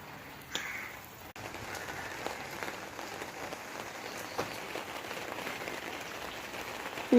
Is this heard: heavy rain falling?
yes